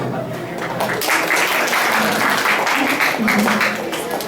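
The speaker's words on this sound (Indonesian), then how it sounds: "Berikan tepuk tangan yang meriah" A school crowd at a high school Indonesian-language practical exam opening breaks into lively applause, a dense steady wash of clapping that swells after the first second and holds strongly to the end, with voices mixed in.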